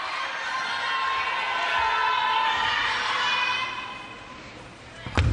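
A table tennis crowd at a WTT Champions match in Yokohama roars and cheers in a sustained swell that fades toward the end, with a sharp burst just before it stops.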